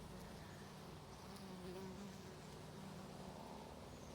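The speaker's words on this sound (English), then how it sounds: "I just can't believe how much these bees love these flowers." Bees buzzing steadily around flowers in a summer home garden, a continuous close insect drone with no voices.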